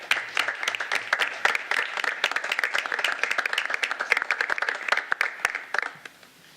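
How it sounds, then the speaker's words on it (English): A city council meeting audience gives a round of applause: dense, steady clapping from many hands throughout, thinning out and fading in the final second. "And I think that deserves another round of applause."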